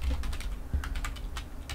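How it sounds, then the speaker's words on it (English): Computer keyboard typing in a rapid, irregular run of clicks and taps, fairly close and steady throughout, with no talking over it. "Taka-taka, I'm at the keyboard."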